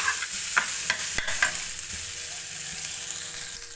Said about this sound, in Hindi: तो हम इसकी भुनाई कर लेंगे। आग को मैंने नीचे से तेज़ कर लिया है ताकि इसकी भुनाई अच्छे से हो जाए